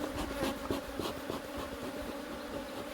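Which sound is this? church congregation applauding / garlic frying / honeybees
honeybees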